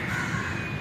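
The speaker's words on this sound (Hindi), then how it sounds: "और यहाँ ऊपर भी बहुत सारे कौवे हैं, पूरा का पूरा गोल है कौवों का।" A flock of crows gathered overhead near water gives a loud, close burst of harsh cawing that lasts under a second.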